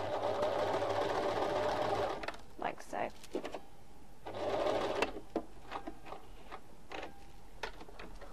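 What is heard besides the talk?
sewing machine stitching fabric heart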